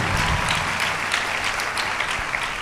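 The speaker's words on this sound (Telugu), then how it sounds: "చప్పట్లు కొడదాం మొదలు గట్టిగా" A congregation at a church service in Yanamalakuduru, Vijayawada, claps loudly and continuously, a dense, close wash of hand claps with no pause throughout.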